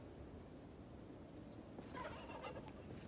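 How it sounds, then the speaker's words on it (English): Turkeys gobble somewhere nearby in the video game Project Zomboid, a faint, distant burst of warbling gobbles arriving near the end over a soft, steady background. "Oh, we got turkeys in the vicinity. Heard them gobbling."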